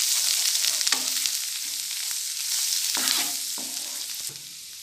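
Ginger garlic paste with turmeric and red chili powder sizzles steadily in a hot pan while a utensil scrapes and stirs in a few distinct strokes, close and alone without any voices.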